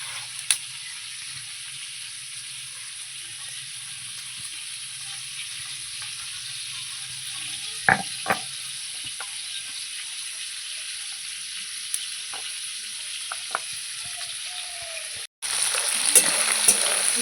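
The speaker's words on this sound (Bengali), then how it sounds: "কাঁকড়াগুলো আমার ভাজা হয়ে গেছে তুলে নেব এই যে লাল লাল করে ভেজে নিয়েছি" Crabs frying in oil make a constant bright sizzle throughout, with occasional sharp clinks, and the hiss swells louder near the end.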